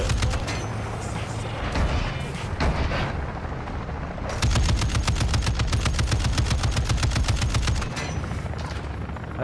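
Call of Duty Modern Warfare II DMZ gunfire aimed at a helicopter: scattered shots at first, then a long, steady burst of rapid automatic fire, loud and close, with no talk.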